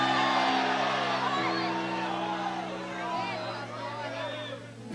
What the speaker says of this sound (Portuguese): Posso ouvir mais um grito de glória a Deus aí?